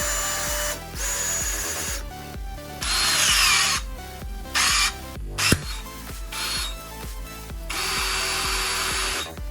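A Ryobi P592 battery-powered bolt cutter works in several bursts, each a loud motorized whine broken by pauses, with one sharp snap partway through as it cuts through metal.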